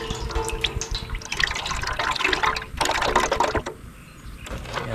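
Old, water-contaminated oil drains from the engine of a swamped Sea-Doo jet ski, a close, uneven trickling and splashing pour that thins and briefly eases near the end, with no talk.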